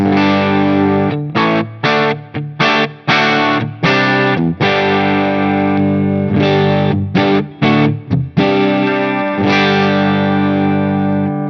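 Electric guitar played through a Line 6 Helix Cali Texas amp model pushed into power-tube distortion, loud, thick and sustained chords with brief choppy stops and ringing held notes, alone without talk.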